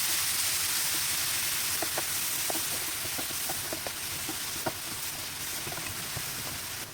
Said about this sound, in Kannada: ಈಗ ಹೆಚ್ಚಿಟ್ಟಿದ್ದ ಮೆಂತ್ಯ ಸೊಪ್ಪನ್ನೆಲ್ಲ ಹಾಕ್ಕೊಂಡು ಈ ಮಸಾಲೆ ಜೊತೆಯಲ್ಲಿ ಚೆನ್ನಾಗಿ ಹುರಿಬೇಕು.